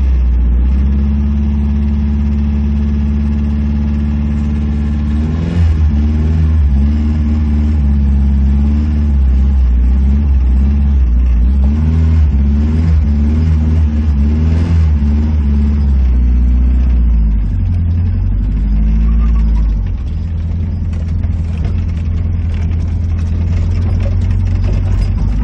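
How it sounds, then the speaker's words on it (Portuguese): A Volkswagen Voyage engine drones steadily from inside the moving car on an old, pothole-filled road, its pitch shifting through gear changes and revs. No one speaks. "Matando aquela saudade do carro."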